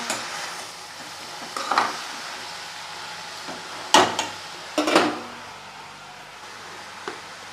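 Fenugreek greens (vendhaya keerai) stirred in a pan while making a poriyal: a soft steady sizzle with a few sharper scraping strokes of a spoon against the pan, fairly close, no talk.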